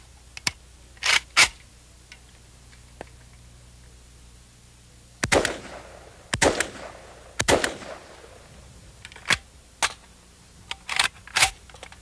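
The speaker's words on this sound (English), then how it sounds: "One pull of the trigger, you get one round. You get another round, you have to pull the trigger again." Semi-automatic firearm trigger pulls, each producing a sharp mechanical click or snap, about a dozen close, crisp single actions spaced irregularly with quiet between, some in quick pairs.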